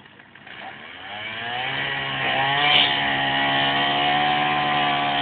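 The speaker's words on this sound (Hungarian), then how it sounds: "Itt a texasi láncfűrészes." A chainsaw cuts down a tree with a steady, loud, droning whine that builds in intensity over several seconds and holds without pause, with no voices.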